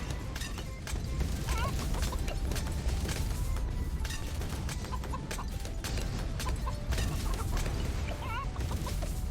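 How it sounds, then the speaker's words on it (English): Chickens in a video game cluck repeatedly, with chirpy clucks recurring over a dense, steady background of game noise. "the chickens are very annoying"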